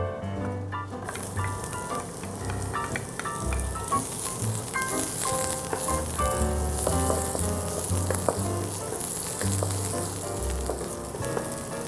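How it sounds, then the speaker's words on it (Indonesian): Spice paste ingredients sauté in a hot pan for mushroom tom yum, sizzling loudly and continuously, with crackles and faint stirring scrapes throughout and no voices. "kita lanjutkan dengan menumis bahan-bahan pelengkap bumbunya ya"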